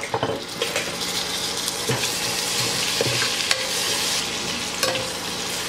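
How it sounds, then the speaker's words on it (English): Large tomato cubes fry and sizzle in a pan for prawn pulao, a steady close hiss broken by a few stirring scrapes, with no talking. "fry this for a couple of minutes till the raw smell goes off"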